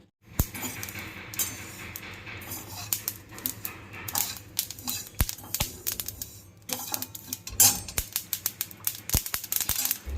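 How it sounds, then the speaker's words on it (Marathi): Sesame seeds and coriander dal crackle as they dry-roast in a pan over low heat: a steady bed of sizzle with scattered sharp little pops and ticks, denser toward the end, close and moderately quiet. "तडतड उडतं म्हणजे त्याच्या अशा लाह्या फुटतात थोड्या थोड्या"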